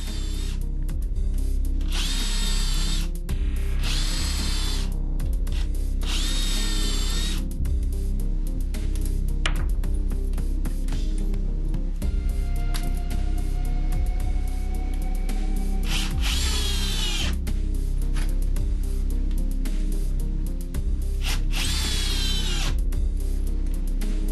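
A Bosch 12V brushless Flexiclick cordless drill driver whirs in repeated bursts, starting and stopping as it drives into material, loud and close with steady background noise.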